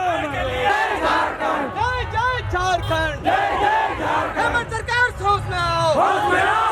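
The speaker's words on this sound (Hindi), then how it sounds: "देख सकते हो पूरा भीड़ उमड़ा हुआ और जज्बा के साथ" A large crowd at a Jharkhand language rally chants and shouts slogans in loud, rhythmic bursts, many voices rising and falling together close by.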